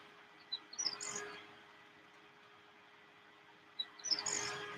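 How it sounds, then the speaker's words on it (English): Cape turtle doves at a waterhole in the wild, with two short bursts of wing flutter and chirpy calls about three seconds apart over a quiet background. "you've got these Cape turtle doves flying all around"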